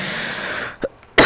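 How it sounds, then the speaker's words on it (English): A person's single sharp cough bursts out loud and close, preceded by a fainter throat sound, during a virtual reality horror game. "Okay, I'm coughing a lot."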